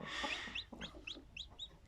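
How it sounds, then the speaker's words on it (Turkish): Several high, bright peeps from newly hatched chicks repeat in quick succession over faint background clucking, close by, with no voices. "yumurtadan çıkan civcivlerimiz"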